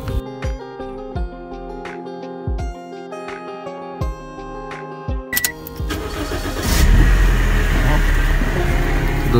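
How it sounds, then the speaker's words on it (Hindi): A car engine is started in a mechanic's workshop after fresh oil and a new gauge are fitted. Sharp clanks and knocks come first, then the starter cranks and the engine catches into a loud, steady close idle. "वो भी हम गाड़ी स्टार्ट करके चेक करेंगे।"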